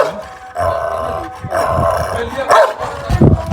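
A big, angry chained dog barks and grunts in several loud, close bursts, the later ones sharp and punchy, with some human voices mixed in around them.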